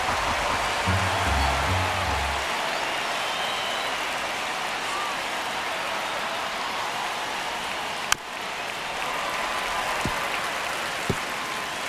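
A stadium crowd roars in the baseball video game MLB The Show 25 during a one-run ninth inning on a full count, as a steady, dense wash of cheering with a couple of sharp clicks near the end.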